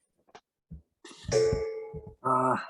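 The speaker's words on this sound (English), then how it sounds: "that gong means we got to get started" A resonant struck tone rings out with harmonic overtones, followed by a second shorter strike, after a few faint knocks and shuffles at the start.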